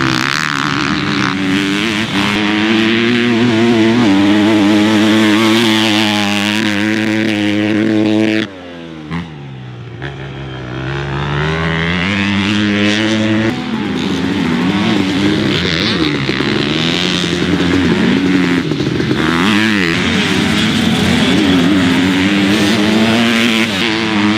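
KTM 250 XF motocross bike from the 2022 lineup, its engine revving loud and continuous with a steady buzzing drone, briefly dropping away for a moment before climbing back to high revs.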